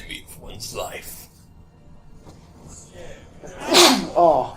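A person sneezes sharply and loudly once near the end, after a stretch of quiet mumbling talk, followed by a second short burst.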